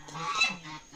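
Ducks on a farm honk and quack loudly and close up, a dense overlapping chorus of nasal calls filling the whole second with no speech.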